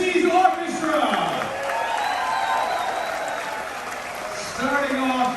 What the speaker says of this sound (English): have a big round of applause for the Harmony of the Seas Orchestra!